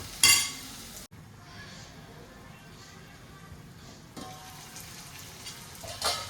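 Okra curry cooking in a pan gives off a soft, steady sizzle, broken by a couple of brief clinks of utensils against the pan, with no voices over it.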